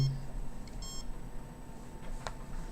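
A microwave radiation detector gives a few short electronic beeps, brief high chirps over a low steady hum, close by with no talking.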